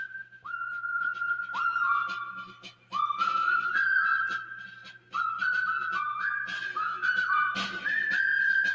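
A whistled rendition of the march theme from the film The Bridge on the River Kwai plays as a clear, bright melody of sustained and gliding notes in phrases, over a faint low hum.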